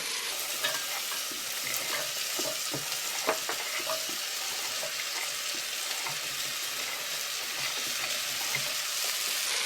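White sausage and vegetables sizzle steadily in a hot pot, with scattered clicks and scrapes of stirring throughout.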